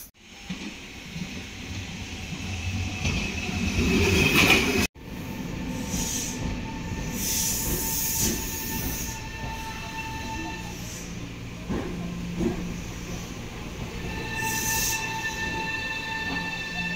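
A train pulling into Namba station in Osaka, a loud steady rumble of rolling wheels and carriages with high squealing brakes and hissing near the end, heard close from on board or the platform.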